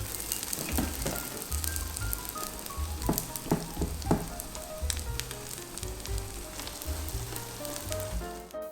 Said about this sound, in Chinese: 10个馅饼包好之后，立马放入到电饼铛当中